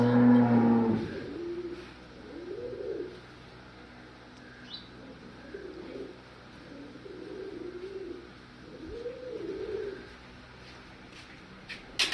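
A Cholistani cross cow, a grazing animal, gives several long, low moos at a steady pace, fairly close and alone, with faint pigeon cooing in the background.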